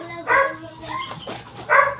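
A dog barks a couple of times, close by, with short pauses in between and a faint whimpering tone in the gaps.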